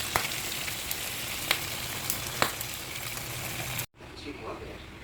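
Crab in coconut milk simmering in a pot as the broth reduces, a steady bubbling sizzle with a few sharp pops, then a sudden cut to a quieter, softer bubbling.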